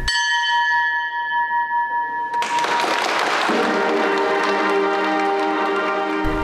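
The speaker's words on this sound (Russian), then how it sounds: "открыть выставку «Ударом в корабельный колокол»" A ship's bell is struck to open an exhibition on the Volga Military Flotilla in the Battle of Stalingrad at the Central Naval Museum. A clear, sustained metallic tone rings out, then a loud, dense wash of crowd noise rises over the fading bell.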